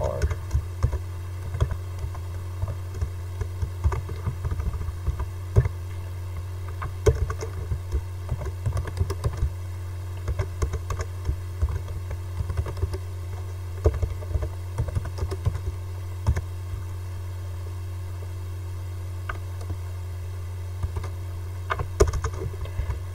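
Someone typing HTML code on a computer keyboard: a long run of light, uneven key clicks, close but quiet, over a constant low electrical hum, with no speech.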